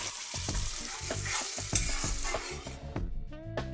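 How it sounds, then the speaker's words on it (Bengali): Spinach puree with corn and tomato sizzling as it is stirred dry in a pan, with a busy run of spatula scrapes and taps over the frying hiss that thins out near the end. "স্বাদ মতো নুন ছড়িয়ে পিউরিটা নেড়ে নেড়ে শুকনো করতে হবে।"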